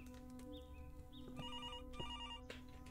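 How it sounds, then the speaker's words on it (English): An in-game telephone rings in the indie horror game Blood Camp, a repeated electronic bell-like trill with warbling tones, set against a steady low droning background and no talking. "Oh, that's my phone ringing."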